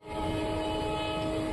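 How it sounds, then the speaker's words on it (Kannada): A train runs past on the opposite track near Hosapete Junction, heading toward Ballari, as heard from aboard a Bengaluru–Hospet intercity: a loud, close, continuous rumble and rattle that swells in within a fraction of a second and holds steady. "ಆ ಕಡೆ ಟ್ರ್ಯಾಕಲ್ಲಿ ಆಪೋಸಿಟ್ ವರ್ಸ್ ಬಳ್ಳಾರಿ ಸೈಡ್ ಒಂದು ಟ್ರೈನ್ ಹೋಗ್ತಿದೆ"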